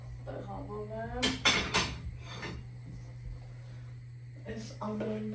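Dishes and bowls being handled in a home kitchen: several sharp clinks and clatters of ceramic and cutlery, close and clustered in short bursts, over a steady low hum, with someone talking between them.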